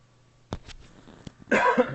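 Several sharp, close coughs, a pair in quick succession, then a single one, followed by a heavier, longer cough fit in an otherwise quiet room.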